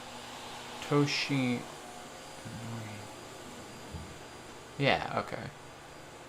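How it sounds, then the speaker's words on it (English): A vacuum cleaner runs indoors as a steady, loud whooshing drone throughout, with a person talking briefly over it. "The vacuum is pretty loud."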